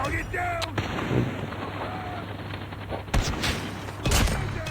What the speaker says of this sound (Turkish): Lan oğlum kim bomba attı lan tepemize?